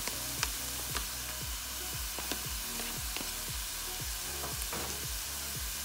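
Onions and liver sizzle in a pan, a dense steady frying hiss with occasional stirring clicks and scrapes, close by and without talk.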